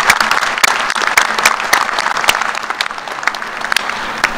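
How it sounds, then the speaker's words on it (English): Loud, close applause from a commencement audience at a graduate school fall graduation ceremony, many hands clapping in a steady, crackling rhythm that continues throughout. "Would you please join me in a round of applause for these important individuals?"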